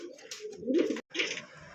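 A female Bombay breed pigeon coos close by in a few soft, throaty bursts with a brief pause in between, clear and alone without talk.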